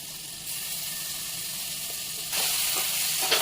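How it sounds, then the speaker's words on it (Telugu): Paneer pieces sizzle steadily as they fry in melted butter, a continuous close hiss that grows a little louder partway through, with faint stirring clicks near the end. "ఈ విధంగా కరిగిన బటర్లోకి మనం కట్ చేసి పెట్టుకున్న పన్నీర్ ముక్కల్ని వేసి దూరగా వేయించుకోవాలండి."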